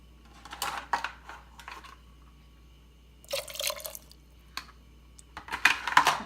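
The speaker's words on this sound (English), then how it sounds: "So I'll add half cup of water." Half a cup of water poured into a pot of sabut masoor dal, heard as a few separate splashing, trickling bursts against a quiet kitchen background.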